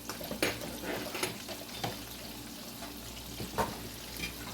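Half a stick of butter and pasta stirred together in a hot pan on low heat, a quiet steady sizzle with a few soft scraping stirs, close by.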